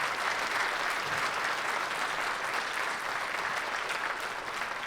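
A steady round of audience applause at a summit session, dense and continuous clapping from a crowd that holds evenly for several seconds.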